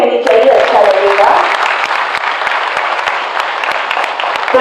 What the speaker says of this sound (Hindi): तालियां बजती रहनी चाहिए, अच्छा लगेगा।